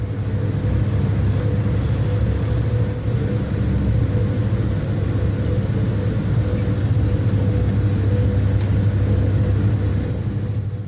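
Electric locomotive rated at 4400 kW hauling the six-coach, 294-tonne Vauban train out of Basel station, a steady loud low rumble and motor drone running continuously throughout with no voices.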